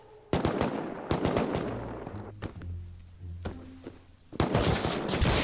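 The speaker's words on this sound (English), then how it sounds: "I just heard an AK shooting outside my base." An AK rifle fires outside a base in a jungle survival video game, sounding as sharp bursts of rapid automatic shots, with a loud volley at the start, scattered single cracks and thuds in the middle, then another dense burst at the end.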